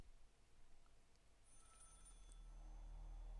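In the horror video game Maid of Sker, a telephone rings faintly with a thin, repeating bell tone over a low, rising ambient drone, with no voices.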